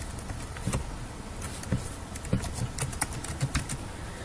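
A password is typed on a computer keyboard as a series of quiet, irregular key clicks, some close together and some spaced apart, with no talking.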